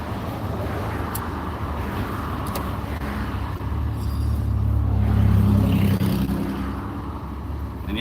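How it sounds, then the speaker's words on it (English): Road traffic at an intersection with a flashing yellow signal and a backed-up queue of cars, a steady roadway roar that swells around the middle, with low engine rumble and no talk. "the traffic here is kind of reminding me of LA"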